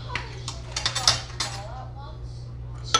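Fenugreek powder and herbs are stirred together in a bowl, with a quick run of light spoon clinks and taps, then a quiet pause and one final knock.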